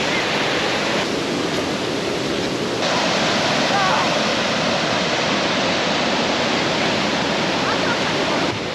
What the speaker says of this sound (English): Beautiful swim there in Fruitbat Falls.